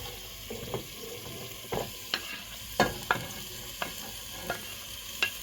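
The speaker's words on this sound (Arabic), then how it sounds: "نحركها هكا تلبس لنا بهاد الزبده باش ما تحرقش" Carrots and spinach frying in butter in a pan are stirred with a utensil, giving a soft steady sizzle broken by about ten sharp scraping strokes at an irregular pace, close and moderately loud, with no voices.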